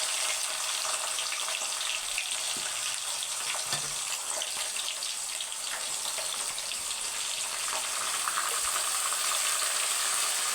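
Chopped ivy gourd pieces fry in a pan with a continuous, even hiss of sizzling oil at moderate level, steady for about ten seconds with no voices.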